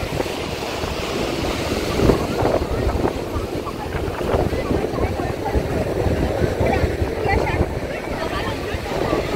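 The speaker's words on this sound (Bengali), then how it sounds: "আজকে সকাল থেকে এখনো পর্যন্ত সমুদ্রে অন্তত বেশ ভালো হাওয়া আছে" Strong wind roars steadily at the seashore, blowing hard into the microphone and mixing with the wash of waves in a loud, continuous rush with no break.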